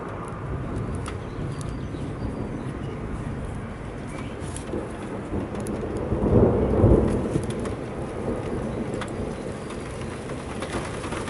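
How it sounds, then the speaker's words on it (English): Heavy thunderstorm with steady rain pouring down and a deep roll of thunder swelling midway before fading back into the rain's constant hiss. "Thunder, lightning, sirens are going off."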